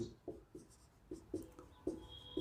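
Chalk or marker scratching across a board during a Hindi-language chemistry lecture on Raoult's law and solutions, heard as about seven short, evenly spaced strokes and taps, close and fairly quiet, with no voice.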